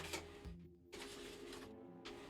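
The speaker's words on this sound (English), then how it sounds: "it's printing from all the times I tried printing." A home printer runs a print job close by. Its mechanism whirs and shuttles in steady passes, with short pauses between the bursts of motion.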